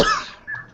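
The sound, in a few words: cough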